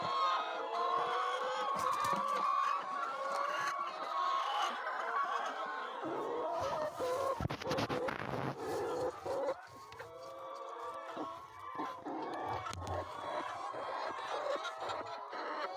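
Chickens cluck and squawk steadily inside a poultry house of laying hens, many birds close by, with a few louder calls and a faint voice in the background.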